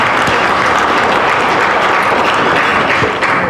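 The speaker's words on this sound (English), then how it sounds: "So I believe they deserve a round of applause" An audience at a high-level diplomatic dialogue on children in armed conflict applauds, a loud, dense, continuous clapping from many hands filling the room without pause.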